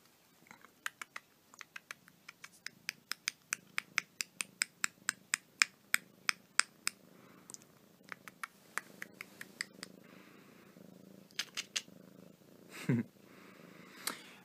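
A house cat purrs softly in an apartment, a low, steady rumble almost hidden under many sharp, irregular clicks and taps that come in quick runs, with a brief louder rustle near the end.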